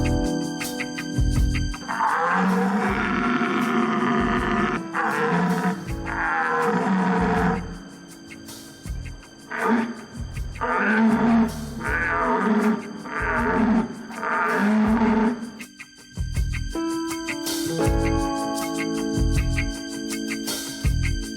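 People imitating the wild rutting roars of stags produce a series of deep, drawn-out bellowing calls, loud and close, with short pauses between them, over a steady rhythmic background.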